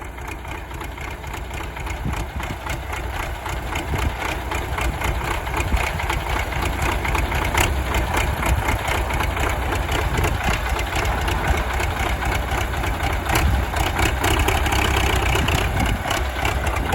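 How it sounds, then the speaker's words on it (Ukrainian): An MTZ-80 tractor diesel engine idles steadily at close range, a loud continuous rumble with a slightly uneven, knocking beat throughout and no talk. "Ну, оце що трохи яшко на холостих підгавкує. Ну а так моторяка звір."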